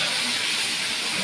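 Food frying in shallow oil after being turned over in the pan, a steady, loud, broadband hiss and sizzle throughout, close and unbroken, with no talk.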